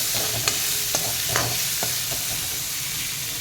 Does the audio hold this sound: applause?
no